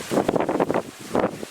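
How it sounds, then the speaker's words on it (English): Hurricane Michael wind gusts buffet the microphone in loud, close, rough roaring surges, one long gust followed by a second shorter one. "the gusts are starting"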